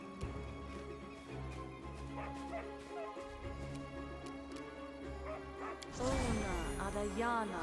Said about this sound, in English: Summoned dog.